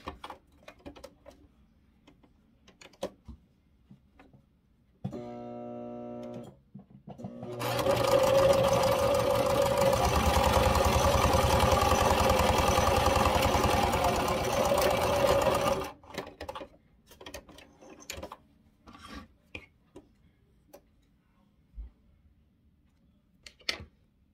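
Quilt fabric strips being stitched on a sewing machine: a short burst of stitching, then a longer steady, close whirring run, framed by quiet rustles and clicks of handling fabric.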